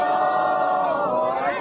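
A massive funeral procession crowd at Tehran University roars and chants together in a dense, sustained wall of voices, loud and close throughout.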